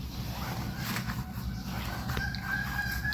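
A rooster crows at a distance over a steady low background rumble. A single drawn-out call rises in the middle of the short stretch, with no talking.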